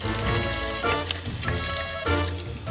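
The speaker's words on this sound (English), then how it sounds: "you want to make sure that you're turning your meatballs to just get a brown kind of sear on all of the sides" Meatballs sear on high heat in a pan while being turned for a brown crust, giving a steady, dense sizzle and crackle throughout with slight swells, close and continuous with no talking.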